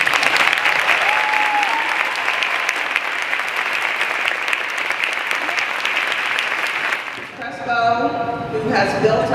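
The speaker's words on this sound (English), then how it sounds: "Let's give her a big round of applause." Sustained, loud clapping from a school assembly crowd honoring a teacher, steady for about seven seconds before tapering off as someone starts talking.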